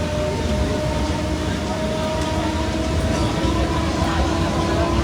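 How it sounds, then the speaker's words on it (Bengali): A train pulls into a station with a continuous heavy rumble and sustained tonal whine, a steady, fairly loud wash of rail noise that never lets up. "ট্রেনের টাইম হয়ে এসেছে, এক্ষুনি ট্রেন আসবে।"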